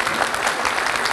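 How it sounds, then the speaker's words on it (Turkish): Audience at an opening ceremony clapping for performers, a brief, dense and fairly loud burst of applause from a crowd. "bir alkış var mı ablalarımıza?"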